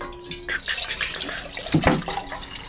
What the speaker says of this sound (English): I usually just water about a cup in and kind of let it settle before I add more